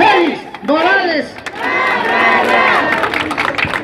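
A crowd at a bicycle raffle after a 2019 race cheers for a prize winner, with loud shouts and whoops rising and falling over a general roar, and some clapping mixed in.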